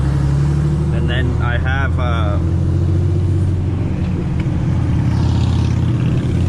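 A 3rd-gen Dodge Ram Cummins 6.7 diesel with a manual transmission rolls along in a loud, steady cabin drone of engine and road rumble, with someone talking over it early on.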